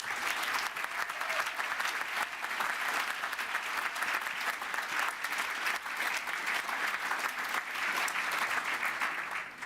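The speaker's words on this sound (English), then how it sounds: "I think we should give those guys another round of applause." Sustained applause from a graduation ceremony crowd at the University of West London, steady and dense throughout with no pauses, heard from within the hall.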